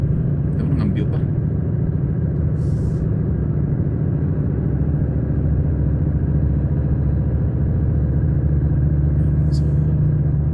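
A Volvo truck climbing a steep one-lane road, its engine a loud, steady, deep rumbling drone throughout, with someone talking over it.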